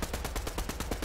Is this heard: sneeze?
no